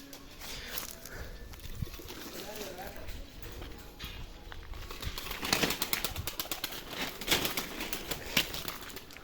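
A flock of tumbler pigeons flies outdoors, with soft cooing and bursts of wing flapping and clattering under ongoing talk, moderately faint and scattered.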